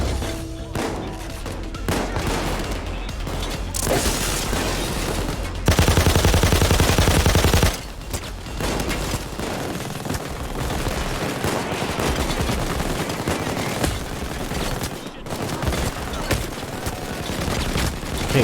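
Sniper and automatic gunfire in a heist shooter game, dense and loud throughout, with sustained bursts, a long roaring stretch midway and near-constant cracks, no clear talk over it.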